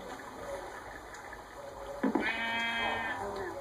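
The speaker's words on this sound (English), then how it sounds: "Oh, sheep." A Minecraft sheep gives a short bleat midway through, fairly faint against a steady background hum.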